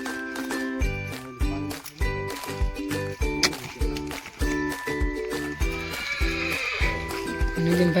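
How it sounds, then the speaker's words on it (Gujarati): A mare whinnies loudly and repeatedly, with fainter hoof clip-clops and a light jingle of tack, all close by over a steady rhythmic background. "ઘોડીને ઠાણી એમ જાય દે."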